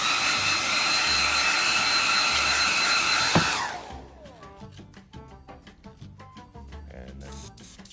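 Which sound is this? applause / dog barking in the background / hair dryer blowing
hair dryer blowing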